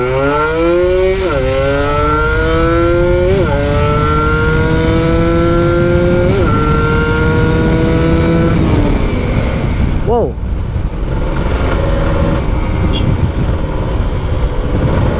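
Kawasaki Ninja RR two-stroke motorcycle with an aftermarket exhaust and new gear set accelerating through several gears in traffic, engine pitch climbing, dropping at each shift, then rising again, loud and close throughout.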